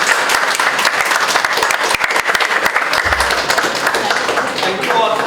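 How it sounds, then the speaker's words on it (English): Workshop attendees applaud a speaker at the close of an artificial intelligence session, loud continuous clapping from a nearby crowd with a few sharper individual claps and a voice briefly heard near the end. "Big clap for Sarita ma'am."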